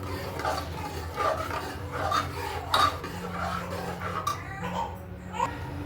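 Metal spoon scraping and clinking around a pot as thick pav bhaji is stirred with added hot water, a rhythmic series of close scrapes and taps with faint talk in the background.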